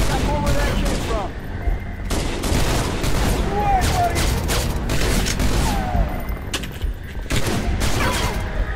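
Heavy gunfire in the Halo Reach campaign at New Alexandria, dense overlapping bursts and booming shots in a chaotic firefight, loud and continuous, with voices calling out amid the shooting.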